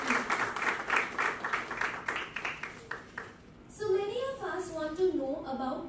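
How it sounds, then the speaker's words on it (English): Applause from the audience at a medical-community records event in Mumbai, a run of steady claps that fades after a few seconds before speech takes over. "let us give ourselves a huge round of applause for achieving this remarkable achievement."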